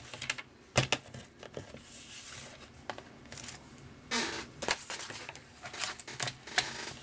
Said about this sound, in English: I'm going to go ahead and get my paper trimmer and trim it in half